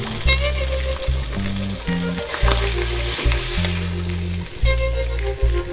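Fish frying in a pan gives a steady, close sizzle with bursts of crackling and spitting, and no voices over it.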